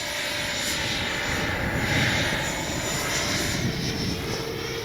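An FMS 70mm F-18 V2 RC jet flies overhead, its ducted-fan whine a steady, loud roar with a slight swell in the middle and no pauses, heard alone without talk.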